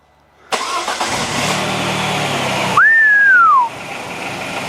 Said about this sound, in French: Allez, donc, premier démarrage, juste après avoir fait lecture et effacement des codes défauts